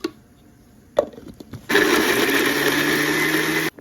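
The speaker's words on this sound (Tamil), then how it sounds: "மிக்சியில் ஒரு அடி அடிச்சுக்கணும்." A couple of sharp knocks and clicks, then a loud electric mixer grinder blending onions whirs steadily for about two seconds before cutting off abruptly.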